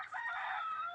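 A rooster crows once, loud and close, in a native free-range village poultry yard, one drawn-out call filling most of the second.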